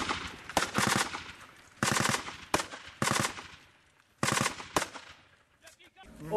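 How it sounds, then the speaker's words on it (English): Bursts of machine gun fire crack out during a firefight in Afghanistan, several rapid volleys separated by short pauses, loud and close with sharp echoing tails, a voice faintly heard near the end. "Move and fire on my command."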